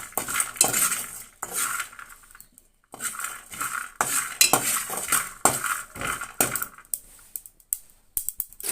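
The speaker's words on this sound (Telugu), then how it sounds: "ధనియాలు జీలకర్ర వేసుకోవాలి ఇవి కూడా కొంచెం ఫ్రై అవనివ్వాలి" Coriander seeds and cumin being fried in a pan, heard as repeated close metal clatter and scraping of a utensil against the pan, irregular and fairly loud with brief pauses.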